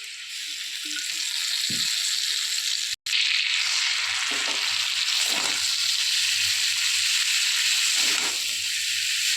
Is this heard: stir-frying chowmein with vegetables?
yes